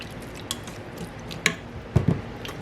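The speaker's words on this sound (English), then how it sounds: "2 tablespoons of Worcestershire sauce. 1 and 2. Then stir that around." A spoon stirs Worcestershire sauce into a mixture in a bowl, making soft, wet squishing sounds and a few light clinks against the dish near the end.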